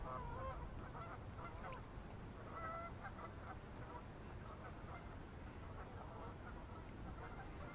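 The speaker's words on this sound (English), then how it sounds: "The geese," Geese honking at the water's edge, their calls faint and distant over a steady outdoor wash of background noise.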